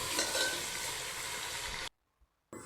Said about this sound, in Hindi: बीच में मिर्चें ऐड करेंगे, इसे अच्छे से पकाएंगे।